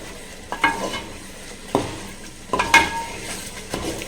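Butter paneer capsicum tikka masala gravy cooking on a high flame, a spoon scraping and stirring the pan in a few distinct strokes over a low, steady sizzle, with no talking.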